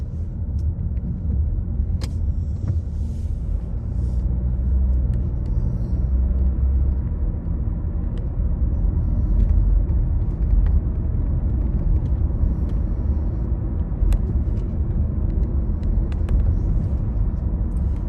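Car traffic on Southwestern Highway near Armadale, a continuous loud low rumble of passing vehicles with road noise and occasional faint clicks, no voices.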